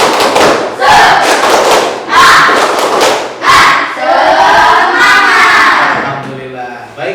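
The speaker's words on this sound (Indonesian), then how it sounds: "Tepuk semangat." A group of participants performs the tepuk semangat clapping chant, rhythmic bursts of shouted syllables and claps in repeated phrases, loud and close, the crowd's voices chanting together.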